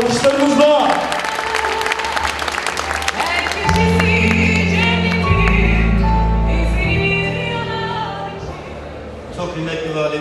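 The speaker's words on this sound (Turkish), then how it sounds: "Alkışlarımızla." An audience at a Bitlis promotion event in Istanbul claps to welcome a politician to the stage, sustained loud applause with a few indistinct voices over it, thinning toward the end.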